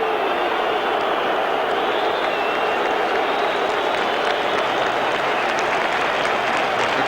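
A football crowd stands and applauds a player named Pearce as he leaves the pitch, producing steady, dense clapping mixed with crowd noise. It stays loud and unbroken for the whole stretch.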